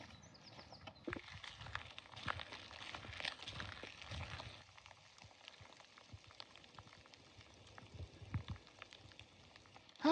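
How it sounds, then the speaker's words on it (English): Rain falling on a hiking trail in Norway, a quiet, steady patter and hiss of drops with scattered louder taps, continuous throughout and heard alone. "here comes the rain"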